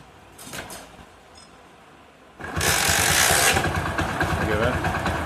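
A motorcycle engine, just tuned with a carburettor screw adjustment, cranks and catches into a loud, close, rough idle that runs steadily after a quieter lead-in with a voice speaking.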